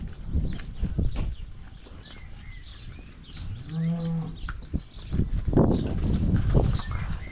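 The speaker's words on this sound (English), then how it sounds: "The herd is on the move." A herd of dairy cows on a New Zealand farm shuffles and walks past close by, with heavy hoof thuds and rustling and a single low moo in the middle.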